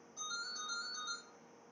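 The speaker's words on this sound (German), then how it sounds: "Oh, sorry, das ist das Telefon." A telephone rings once with a short electronic tone, faint and steady, heard alone in a quiet room.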